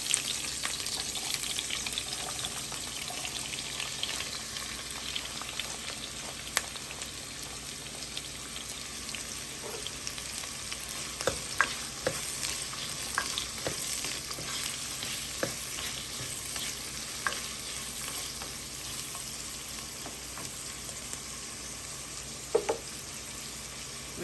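Jalapeno peppers, onion and garlic fry in a pan with a steady soft crackling sizzle, punctuated now and then by sharp pops and occasional stirring clicks, close and without talk.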